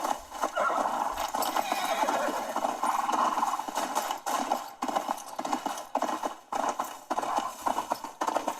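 Horse hooves clopping in a video game, running continuously for several seconds with whinnying mixed in, fairly loud and close over a busy game soundscape.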